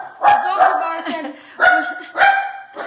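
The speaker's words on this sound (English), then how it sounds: "The dogs are barking." Several excited dogs bark close by in a home kitchen, giving four or five sharp, loud barks in an uneven rhythm with short pauses between them.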